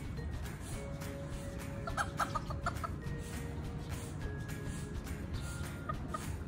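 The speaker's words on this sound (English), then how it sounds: "The chicken." A chicken clucks in short, bright bursts around the middle, fairly close but modest in level over a steady outdoor background hiss; a couple of thin tonal calls also sound, with no speech.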